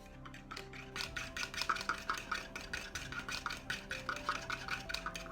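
A utensil stirs egg white with honey in a bowl, making a quick, steady series of close scraping and clinking strokes against the bowl, fairly loud and rhythmic, with no talking.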